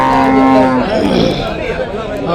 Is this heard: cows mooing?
yes